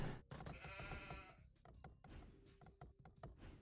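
Sheep bleat faintly in a medieval strategy video game, a few short calls mixed with soft game thuds and clicks, very quiet overall.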